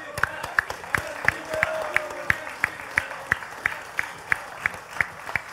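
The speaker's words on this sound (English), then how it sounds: "but can I get a hand for MbL?" Crowd applause at a LAN gaming tournament, with a steady run of sharp claps standing out over the crowd's murmur and a commentator talking over it.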